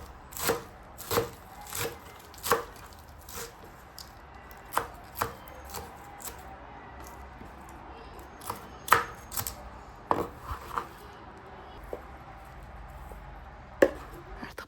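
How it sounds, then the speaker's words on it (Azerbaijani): A knife chops leafy greens for spinach börek on a cutting board, a run of sharp, irregular thuds, some quick pairs and some spaced apart, close and clear over a quiet room. "Başlamışam böreyi hazırlamağa, göyləri doğrayıram."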